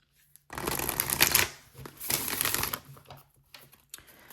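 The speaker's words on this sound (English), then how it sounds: "Let's give this a good shuffle and then we'll get started." Two bursts of tarot cards being riffle-shuffled, crisp rapid fluttering clatter up close, separated by a brief pause and trailing into soft taps as the deck is squared.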